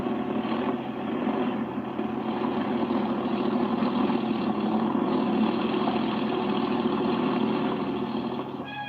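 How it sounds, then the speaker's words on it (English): The 450-horsepower engine of the Babs land speed record car runs with a steady, even rumble, loud and unbroken for about nine seconds, with no voices. "With its massive 450 horsepower engine, it looks capable of trying for the land speed record all over again."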